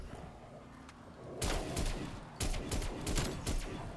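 Shooting at a crate in a Call of Duty game: a series of sharp, fairly quiet gunshots and impacts arriving in uneven clusters over a few seconds, with faint game ambience between them.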